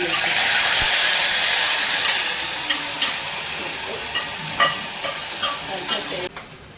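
Mustard seeds and curry leaves sizzle and crackle in hot oil in a pan, a steady loud hiss with scattered sharp pops and stirring scrapes, easing off toward the end.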